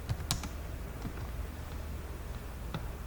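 Fingers tap a computer keyboard while Java code is typed, giving a few quick, sharp clicks over a quiet room hum, then sparse isolated keystrokes, close and without talking.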